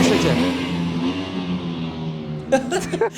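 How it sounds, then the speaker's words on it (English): A loud, close Ducati Panigale V4S 2022 sportbike engine revs up and holds a rising roar, then a few sharp popping bursts near the end, with no voices. "Motorcycle accelerates like a goddamn monster."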